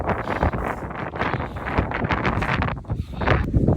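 Wind blows in the Scottish mountains, buffeting the microphone in loud, uneven gusts with a steady rushing roar and no voices.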